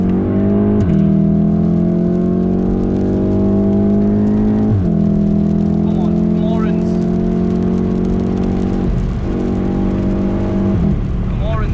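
A Volkswagen Golf R drives along with a loud, steady engine drone from inside the cabin, shifting gears several times with brief dips in pitch, while someone talks over it.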